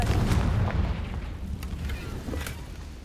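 The Confringo fire spell explosion in the Hogwarts Legacy video game, a loud booming burst that opens the clip and rumbles down into crackling, fading debris.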